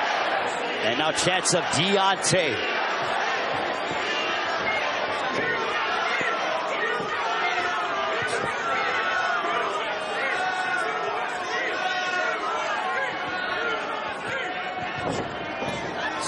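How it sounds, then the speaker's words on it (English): A big boxing arena crowd in Birmingham, Alabama roars and chatters steadily for a heavyweight bout, with sharp slaps early on and a ringside commentator talking over the noise throughout. "This crowd is electric here in Birmingham, Alabama."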